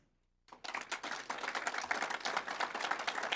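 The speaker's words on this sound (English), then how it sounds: "that's a big round of applause" Convention delegates break into applause after a brief silence, a dense burst of many hands clapping that rises quickly and holds steady, close and loud.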